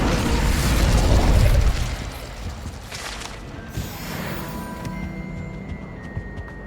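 A fiery Incendio spell blast from Hogwarts Legacy, a loud roaring whoosh that swells for about two seconds, then fades into lighter crackles, clicks and faint tones, with no talk.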